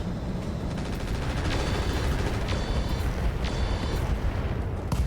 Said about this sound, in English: One dead Whitworth with an LRM ammo explosion.